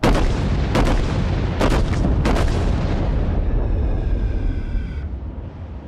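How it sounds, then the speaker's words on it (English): The USS New Mexico battleship fires its main guns in World of Warships, with three heavy booming salvos in close succession followed by a fading rumble and a faint mechanical whine. "It just sounds almost like a very dinky gun."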